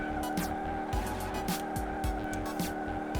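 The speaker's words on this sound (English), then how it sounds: "Keep shredding those tires" Tires shredding during a burnout in Car Mechanic Simulator 2018, with a loud, sustained engine whine layered over repeated squealing pulses of spinning rubber, all steady and close.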